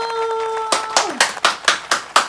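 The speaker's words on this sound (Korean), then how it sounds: "박수!" A small family gathered for a wedding anniversary claps after the candles are blown out, a run of about seven sharp, evenly spaced handclaps, close and fairly loud, following a brief steady tone.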